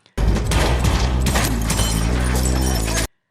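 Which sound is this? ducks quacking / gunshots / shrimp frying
gunshots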